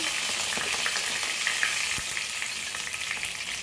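Curry leaves and half a teaspoon of hing hit hot oil for a Goan kelphulachi sukhi bhaji, giving a steady, loud sizzle and crackle with a few sharper pops, close and without talk.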